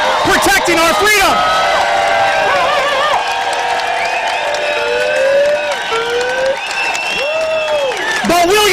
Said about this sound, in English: Let's give a round of applause for everybody protecting our freedom.